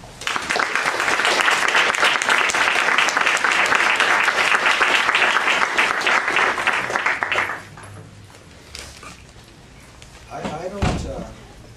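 An audience at an academic lecture applauds to welcome Professor Connolly, a loud, dense, sustained clapping that lasts about seven seconds before stopping abruptly, followed by quiet room noise and a few knocks and shuffles.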